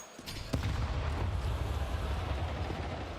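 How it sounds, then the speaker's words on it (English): A frag grenade bursts in a Counter-Strike match at a Budapest major grand final, a sharp close blast followed by a sustained loud rumbling roar. "a frag grenade in your face"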